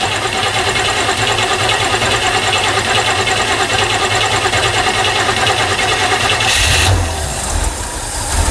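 A carbureted engine fitted with a cheap Chinese carburetor is cranked by the starter for several seconds, a continuous loud whirring, then catches and fires near the end, settling into a rough idle.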